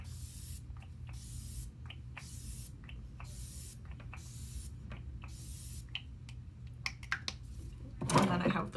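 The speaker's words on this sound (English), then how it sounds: "I'm gonna spray my face" ColourPop Hydrating Mist from the Pretty Fresh line spritzed onto a face, a series of short, evenly spaced hissing sprays repeated many times, followed by a louder burst of rustling near the end, with no talk.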